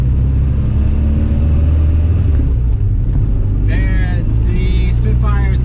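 A 1978 Triumph Spitfire engine runs steadily and rough with a loud, constant low rumble throughout; a voice talks over it in the last couple of seconds.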